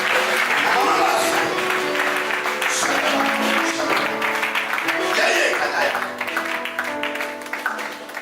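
A church congregation at a prophetic service applauding, sustained clapping mixed with cheering voices, loud at first and then tapering off near the end.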